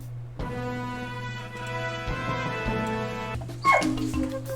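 Dogs whimper and yip close by, high plaintive whining tones rising and falling over a steady low hum, with a sharper yelp near the end.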